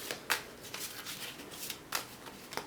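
Goddess oracle cards being shuffled by hand, several quick riffling bursts of crisp card noise, close and quiet, with no talking.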